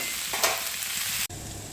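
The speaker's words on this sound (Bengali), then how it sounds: "সবজিটা দিয়ে খুব ভালো করে একটু নাড়িয়ে চাড়িয়ে ঢাকা দিয়ে একটু ভালো করে নরম করে নেব" Vegetables stirred in a hot pan for a fish-head and spinach-stem dish, giving a steady scraping sizzle that cuts off abruptly near the end and leaves a quieter simmer.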